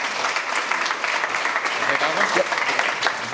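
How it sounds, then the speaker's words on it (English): Audience applause at a startup pitch event as a team is welcomed onstage, steady dense clapping filling the whole moment at moderate loudness with a faint murmur of voices underneath. "let's give them a big round of applause"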